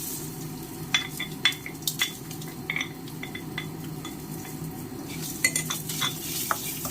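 Ingredients for a Kongu-style mutton gravy fry in a little oil in a pan, with a soft steady sizzle under repeated sharp clinks and scrapes of a metal spoon stirring, close and fairly quiet.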